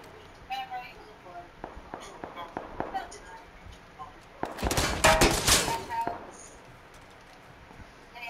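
Gunfire in a video game: scattered single shots early, then a dense burst of rapid automatic fire in the middle, heard under ongoing voice chat.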